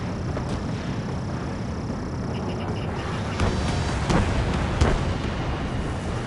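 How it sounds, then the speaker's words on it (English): A missile fires from a fighter jet in the combat flight game Ace Combat 7, with whooshing thumps near 3.5, 4 and 5 seconds over a steady roar of jet engine and battle noise. "Missile launched."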